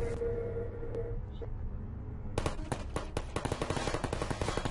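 A portal gun fires in the video game Portal, a burst of rapid sharp shots and clatter after a quiet stretch.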